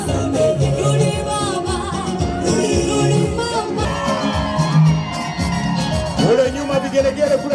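A crowd at an outdoor gospel meeting in Dodoma ululates, shouts and cheers in overlapping bursts, with a loud amplified voice calling out over them.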